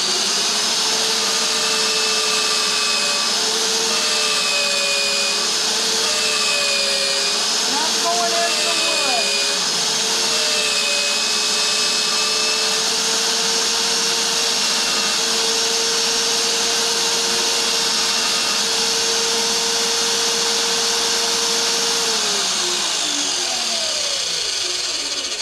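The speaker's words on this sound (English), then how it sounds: "now I'm going to drill another hole" VEVOR magnetic base drill press boring a hole, a loud steady motor whine that dips and wavers as the bit cuts, then winds down near the end.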